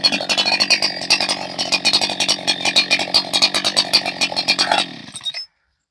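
Holzfforma G288 90cc-class chainsaw bucking wood, engine roaring loud and close with a rapid pulsing rhythm under load, then cutting off abruptly near the end.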